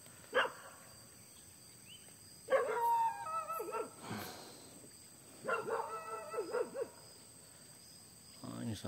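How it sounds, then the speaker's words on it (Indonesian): A dog left alone in a garden barks and howls in bursts outdoors, with quiet pauses between, plus a high steady insect-like whine throughout. "ini itu anjing di kebun orang"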